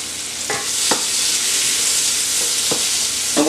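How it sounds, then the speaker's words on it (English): Onions and green peppers sautéing in a pan give a steady, close sizzle, with a few light scrapes and stirring clicks on top. "And we're just going to saute these down."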